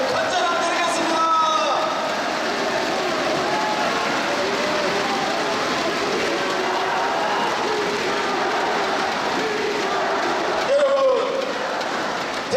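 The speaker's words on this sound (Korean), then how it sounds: "우리 가족이 박수 한번 해주시기 바랍니다." A crowd at an outdoor political party rally in Gyeongsan claps in a dense, steady roar of applause that holds for about twelve seconds. A few louder bursts rise through it.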